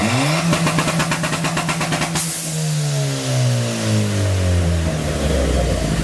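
A Ford Fiesta fitted with an aftermarket downpipe and exhaust revs loudly up close, with a rapid burst of throttle blips, then a rising rev that falls away into a long settling idle drone.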